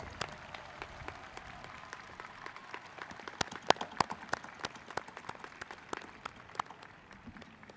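Audience at a university commencement clapping, a thin spread of scattered hand claps that stays fairly soft and distant with no clear cheering.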